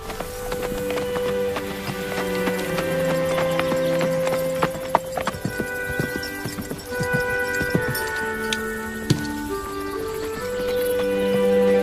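Horse hooves clip-clop in a steady walking rhythm over tonal music, with occasional sharper knocks standing out close by.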